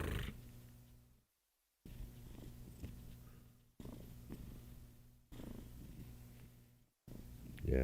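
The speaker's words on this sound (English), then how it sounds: "I don't know if you guys can hear the cat" A house cat purrs in a low, steady rumble close by, in rhythmic cycles broken by short silent gaps.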